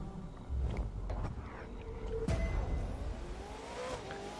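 Hypercar engines in the racing game The Crew 2 roar and rev, with one car sweeping past and a sharp surge around two seconds. The sound is fairly quiet and steady, without talk.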